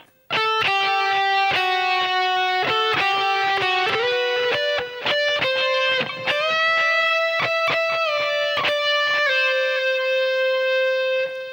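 A distorted electric guitar plays a solo phrase, with picked notes, string bends and a slide that rise in pitch, ending on a long sustained note, loud and close with no voice.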